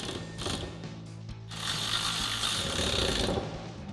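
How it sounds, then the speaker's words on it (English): A ratchet with a 6 millimeter Allen socket tightens bolts on a Rough Country nudge bar fitted to a 2021-2023 Ford Bronco, giving close, rapid clicking bursts of the pawl with short pauses between strokes. "Then we can go ahead and tighten these down using our 6 millimeter Allen socket."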